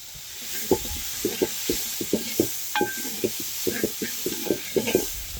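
Garlic and ginger sizzle in a pan for lemon chicken curry. There is a steady frying hiss, with a spoon knocking and stirring in irregular taps close by, and no one talks.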